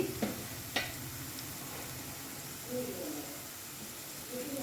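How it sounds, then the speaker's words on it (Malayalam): Small shallots frying for a prawn roast, with soft continuous sizzling, a couple of sharp utensil clicks and light stirring, fairly quiet. "നല്ല ബ്രൗൺ കളർ ആവുന്നത് വരെ ഇത് വഴറ്റിയെടുക്കാം."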